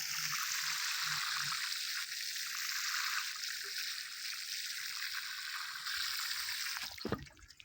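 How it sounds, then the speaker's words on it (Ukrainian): Water poured slowly from a watering can onto the soil around a newly planted Canadian serviceberry bush, a steady close trickle and splash that runs nearly throughout before stopping near the end. "І тепер поливаю."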